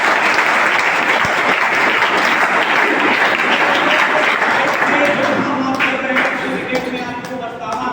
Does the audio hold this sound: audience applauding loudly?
yes